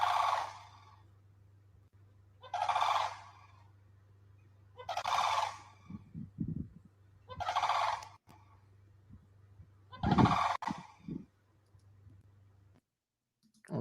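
Birds calling outdoors, turkey-like gobbling bursts repeating about every two seconds over a low steady hum, with softer clucking clicks between, fairly near and clear.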